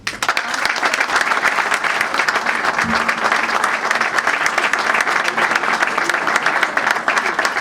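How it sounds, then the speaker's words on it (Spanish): Strong, sustained applause from a crowd at a rural labor congress in Buenos Aires, dense and steady throughout, filling the room for several seconds. "Un fuerte aplauso para el compañero José Boitenco, secretario general de la UATRE"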